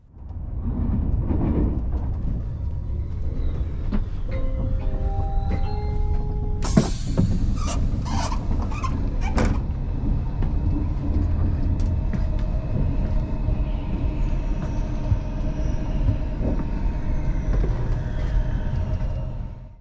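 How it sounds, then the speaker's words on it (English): Train rolling through central Paris toward Gare de l'Est, a steady loud rumble of wheels and carriage throughout with a sharp clatter partway through and brief tonal squeals, no voices. "we were already well within the city of Paris, and fast approaching Gare de l'Est"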